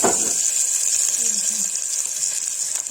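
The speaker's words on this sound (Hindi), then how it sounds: "ये तेल है और इस गाइस देखिए इसमें डालेंगे प्याज" Onions dropped into hot oil for a home-style potato and onion curry hiss and sizzle with a sharp burst at the start, then settle into a steady bright frying crackle close by, with no talking.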